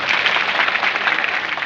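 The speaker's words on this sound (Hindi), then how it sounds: "इनके लिए जोरदार ताली" A rally crowd at a Jays mahapanchayat in Barwani claps steadily, a dense, even wash of applause with no break.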